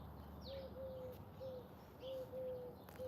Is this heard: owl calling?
yes